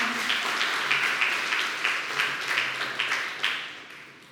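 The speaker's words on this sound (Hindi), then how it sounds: "ताली बजाए तो अच्छा लगता है" A church congregation at a Sunday evening Hindi service applauds together, a steady wash of many hands with rhythmic swells, fairly close and sustained throughout before tapering slightly.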